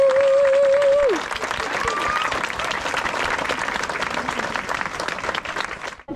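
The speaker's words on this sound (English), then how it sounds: "Can I have a round of applause for our lovely volunteers?" A parkrun crowd in Gateshead claps for the event volunteers, a steady outdoor burst of applause that follows a brief tone and holds for several seconds.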